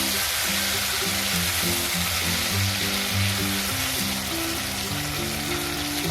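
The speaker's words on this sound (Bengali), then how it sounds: "টমেটোটাও একটু তেলের মধ্যে ঝিঙের সঙ্গে ভেজে নেব।" Tomato and ridge gourd fry in hot oil in a pan, a steady, dense sizzle lasting throughout, with nobody talking.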